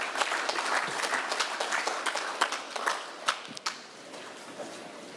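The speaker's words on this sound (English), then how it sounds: "A round of applause as he comes through." Applause at a prison and correctional service conference award presentation: a room of people clapping steadily, with individual sharp claps standing out near the end as it thins and tapers off.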